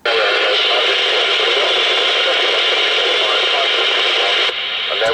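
A weak low-power CB radio transmission on a Rotel RVC230 FM set, heard as a steady loud hiss of static with a muffled, barely intelligible voice buried in the noise, ending with a short squelch drop.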